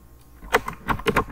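Fingers typing code on a computer keyboard, a quick run of about five crisp, close key clicks after a brief quiet start.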